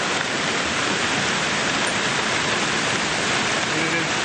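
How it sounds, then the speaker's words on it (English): Golf-ball-sized hail pounds down in a severe thunderstorm with strong wind gusts, a loud, dense, unbroken roar of impacts lasting throughout. "That's hail the size of golf balls."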